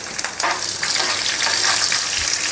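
Dried and green chilies with cumin sizzle in hot oil as a tempering for curd rice, a steady close crackle and hiss with small spattering bursts throughout.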